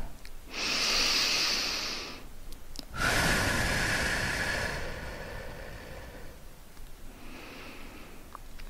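Slow, deliberate breaths during a relaxation exercise: a long inhale, then a longer, louder exhale of air, followed by a quieter breath, close to the microphone with no talking.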